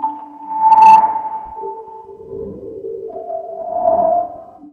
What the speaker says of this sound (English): Let's select the Ice Wind sound clip.